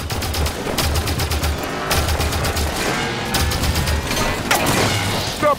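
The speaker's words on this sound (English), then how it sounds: "Stop that turret. Gotta deal with this first." A turret in Halo 5: Guardians fires in rapid bursts, loud sustained gunfire broken by brief pauses, with booming impacts and clattering debris mixed in.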